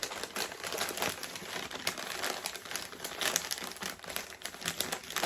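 Crinkly, crackling crumpling of trash being stuffed into a puppet body made from recyclables, a steady near rustle that goes on without pause and without talk.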